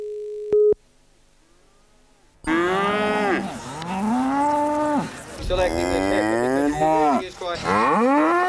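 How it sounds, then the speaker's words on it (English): Cattle of many shapes, sizes and breeds bellow at a country showground, a string of loud, drawn-out moos overlapping one another close by after a brief electronic tone and a quiet pause. "cattle of just about every shape, size and breed gathered"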